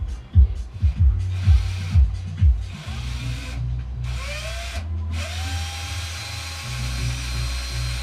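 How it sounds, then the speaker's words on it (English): Power drill boring holes in the plastic case of a Weller 8200 soldering gun, several short bursts of whirring and grinding, followed by longer motor whines that rise and fall in pitch. "Drill the holes in the plastic case"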